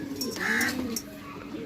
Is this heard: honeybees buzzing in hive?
no